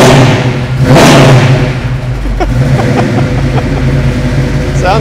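A 1967 Camaro RS fitted with a 671 blower fires up with a loud burst and then rumbles at a lumpy idle up close, with a few sharp rev blips and people talking over it.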